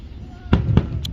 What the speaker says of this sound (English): the sparkle ones make a satisfying noise after it booms